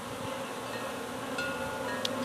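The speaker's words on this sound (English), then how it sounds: "Look at all those bees." Honeybees swarming at an open hive during a first inspection, a steady close droning hum with a couple of brief sharper buzzes as individual bees pass near.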